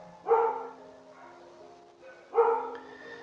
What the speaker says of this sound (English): And my dog's barking again and being annoying.